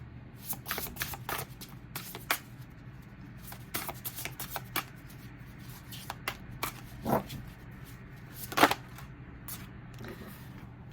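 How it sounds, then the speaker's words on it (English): Tarot cards riffled and shuffled from a deck, with soft repeated papery flicks and light taps close by, then two distinct snaps as cards are pulled out, quiet and steady throughout with no talk. "I'm going to get two cards from this deck."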